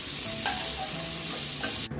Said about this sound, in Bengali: মিনিট পাঁচেক ভাজলে দেখবে ফুলকপিটা একটু হালকা লাল লাল ভাজা হয়ে যাবে।